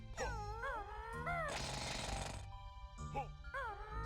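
Banjo-Tooie's Drill Bill move: a harsh, loud, broadband drilling burst of about one second in the middle, between warbling game sound effects.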